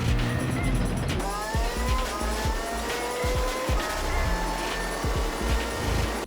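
A Group 1 race car in Gran Turismo 7, lapping at the 24 Hours of Le Mans, roars loudly and continuously as its engine pitch rises and falls under braking and full throttle, with tire squeal and skidding throughout.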